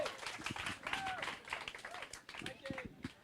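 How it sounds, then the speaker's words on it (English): An indoor audience at a startup talk event applauds a guest speaker with scattered, fairly soft clapping that runs throughout while people talk over it. "So let's give Micheal Craig a big round of applause."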